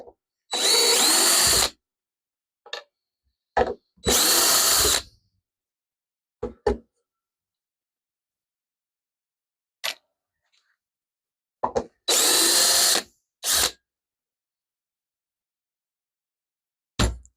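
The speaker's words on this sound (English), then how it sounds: "Oh, this screwdriver bit sucks. Screws keep binding to it." A power driver with a screwdriver bit drives screws into wood for a scroll saw stand, several loud whirring bursts of a second or more, with brief clicks and taps between them and silence in the gaps.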